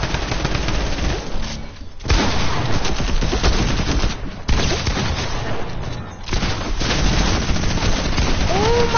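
Loud, dense video game gunfire crackles almost nonstop in rapid bursts, broken by a few short pauses, with no clear talk over it.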